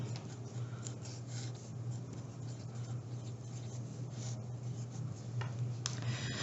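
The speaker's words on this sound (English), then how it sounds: "So I'm going to start by writing that down." A pen writes a math formula on paper with soft, continuous scratching and rubbing strokes, close and quiet over a steady low hum.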